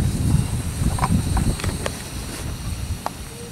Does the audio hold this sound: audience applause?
no